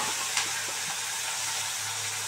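Fish pieces fry in hot oil, a dense, even sizzle holding steady and loud throughout, with a faint tap near the start.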